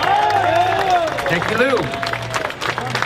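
A crowd at a Teamsters labor rally applauds and cheers, a rough wash of clapping running under a man's speech at the microphone.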